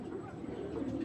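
Racing pigeons coo with a low, muffled, continuous murmur that stays close and quiet throughout.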